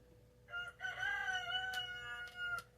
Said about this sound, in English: we got a wake-up call. The rooster is letting you know, yes, it's time to wake up